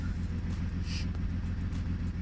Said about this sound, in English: it does seem to be misfiring